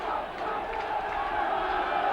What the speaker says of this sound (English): Crowd trying to lift Town.